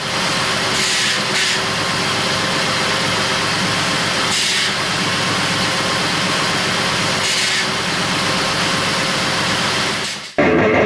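A Ford Mustang Bullitt engine idles loudly and close, a steady low rumble that holds throughout before cutting off abruptly near the end.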